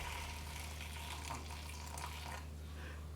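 Boiling-hot water pours in a steady rushing stream for making yogurt, fairly close over a low constant hum, thinning out toward the end; nobody speaks.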